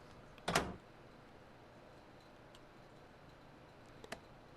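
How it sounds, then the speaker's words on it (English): A truck cab door in a freight-hauling video game slams shut with one sharp, solid thud, followed by a quiet pause and a couple of small clicks near the end. "Now I need to close the door."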